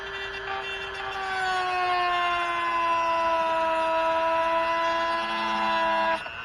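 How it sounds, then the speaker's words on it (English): A Harbor Freight Dremel-type rotary tool spins a cut-off wheel near plastic parts, giving a loud, close, high whine whose pitch sags slowly before cutting off near the end. "Harbor Freight Dremel, the same, same thing, cut off wheel."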